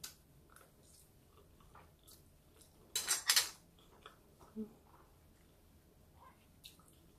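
Someone eating a home-cooked chicken apritada, with soft chewing and a few clinks of cutlery against a plate, close and quiet, and one brief louder scrape of a utensil partway through.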